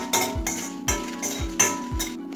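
Dried red chillies and coconut being stirred in a pan give a run of metallic scrapes and clinks in a steady rhythm, about four sharp strokes, close and fairly quiet, with no voices over them.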